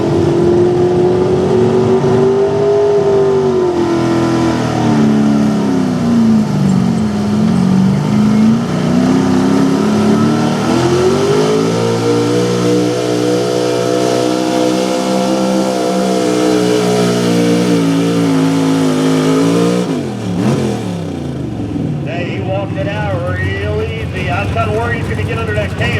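A small-block high-output Dodge 4x4 pulling truck roars loudly at a truck-pull event, its engine held high against the rev limiter with wavering pitch, then dropping and easing off near the end, with an announcer's voice underneath.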